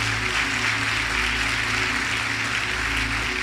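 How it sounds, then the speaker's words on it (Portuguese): A church congregation claps steadily through an evening worship service, a dense, continuous wash of applause with a low hum underneath and no voices breaking through. "Você pode aplaudir a Ele e faça com uma alegria"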